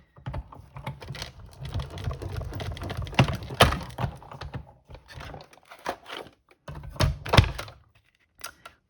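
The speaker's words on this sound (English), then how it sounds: "And then we're going to put that through the stamp, cut and emboss machine." Card stock in a folder run through a hand-cranked stamp, cut and emboss machine, producing irregular clunks, clicks and grinding rattles in two bursts with a short pause between, close up.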